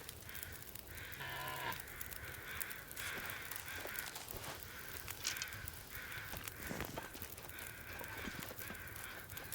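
Crows in The Long Dark video game caw repeatedly and loudly in a steady series of harsh calls across the whole stretch, over a constant wind-like game ambience.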